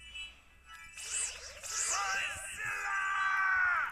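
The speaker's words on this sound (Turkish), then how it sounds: "Ya kim Godzilla diye bağırıyor?" In a video game, someone yells Godzilla's name, a loud drawn-out shout rising and sustained over a couple of seconds, with strained, wavering pitch and little else around it.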